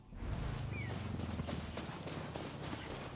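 Horse hooves clip-clop on the ground in the open-world game Far Cry 6, a steady quiet walking rhythm of soft hoof strikes under faint ambient game sound.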